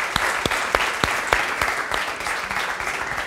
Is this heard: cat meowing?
no